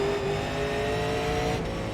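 Super late model race car engine in an iRacing sim race, a steady loud droning whine holding near and constant with a slight pitch shift as the car runs alongside.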